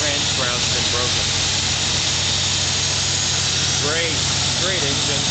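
A stock 1976 Ford F-100 Ranger engine idles steadily in the engine bay, a continuous low rumble with a large cooling fan running, while someone talks over it throughout.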